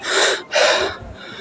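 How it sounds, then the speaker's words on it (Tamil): Heavy, labored breathing from someone climbing hundreds of temple steps: two strong, close gasping breaths followed by a softer exhale, loud and alone. "மூச்சு வாங்குது"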